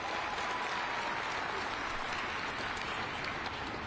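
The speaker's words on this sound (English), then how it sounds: "Give yourselves a round of applause." Crowd at a mayoral jobs announcement in New York applauding themselves, a continuous even wash of clapping filling the whole moment.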